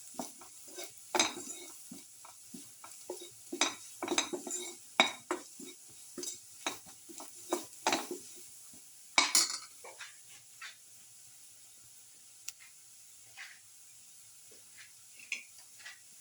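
Coriander powder and other spices stirred with a spoon in a pan for a garlic potato tomato casserole: a string of close, uneven scrapes and metallic taps that thin out toward the end, no voices.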